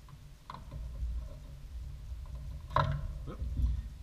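Screws being backed out of a Ninja blender lid during a repair: scattered small mechanical clicks and ratcheting creaks over a low background rumble, with a sharper click near the end.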